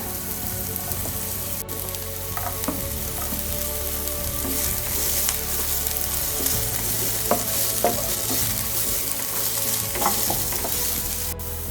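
Capsicum frying in a pan for a cumin seed potato roast: a continuous dense sizzle with occasional scraping stirs, close and steady, with no voices.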